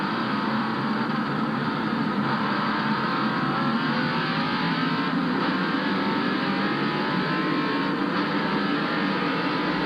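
NASCAR Winston Cup stock cars in the 1988 Valleydale Meats 500 roar toward turn 1, a dense, continuous engine blare that stays loud and even for the whole stretch, with no talk over it.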